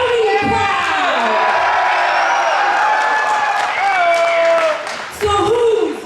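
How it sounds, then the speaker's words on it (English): A loud, rowdy crowd at a live Over The Top 2019 event cheers, whoops and applauds continuously, with shouts rising above the din and no pause. "This is a loud crowd. This is a wild crowd. This is a rowdy crowd."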